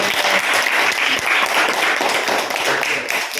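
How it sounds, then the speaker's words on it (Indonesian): Students in a classroom coaching session applaud together, a loud, close, continuous wash of clapping hands with no pause. "Tepuk tangan untuk semua."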